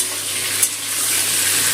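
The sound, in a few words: frying pointed gourd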